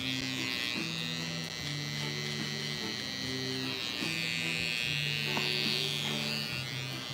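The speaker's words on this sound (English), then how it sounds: "So we'll take our saber trimmer, come underneath that so we could get that contrast to come out." A Saber hair trimmer buzzes steadily and close up while cutting hair during a high taper haircut, a continuous electric whir with a faint hum and little variation in loudness.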